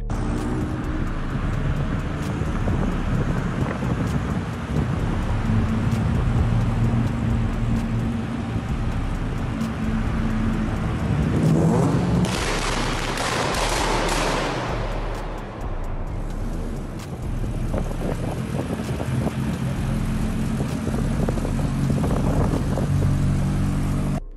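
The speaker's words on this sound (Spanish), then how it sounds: "Acá dejo un video que subió pasando por un túnel, eh, hace un quilombo terrible." A loud car passes through a tunnel, its engine roar swelling into a dense reverberant rush at the midpoint before easing back into a steady drone.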